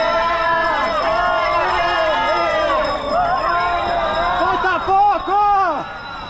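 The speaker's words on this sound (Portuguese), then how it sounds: "Mais torcida." Crowd of spectators along the São Paulo City Marathon route in 2024, cheering runners with a steady wash of overlapping voices and calls that swells briefly near the end.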